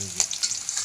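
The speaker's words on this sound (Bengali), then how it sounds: "মুগের ডালের খিচুড়ি রান্না হবে।" Moong dal khichuri fries in a pot with a brief close sizzle and a few stirring scrapes, lasting under a second with no voices.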